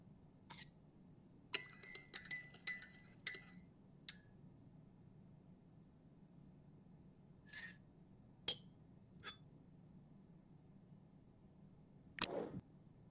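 A spoon stirs sugared tea in a cup in a video game, giving sparse, faint, delicate clinks against the cup, some in quick clusters and others isolated, over a quiet background hum.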